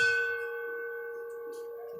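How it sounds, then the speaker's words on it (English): A single bell rung at a Pearl Harbor remembrance ceremony, one clear struck tone that rings out and slowly decays while a faint voice murmurs underneath. "Mr. Pritchard, please ring the bell in honor of you and your troops."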